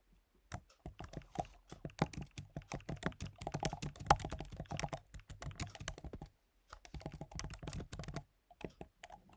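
Rapid typing on a computer keyboard during a coding session, dense bursts of crisp close key clicks with a short pause partway through before the typing resumes at the same quick pace.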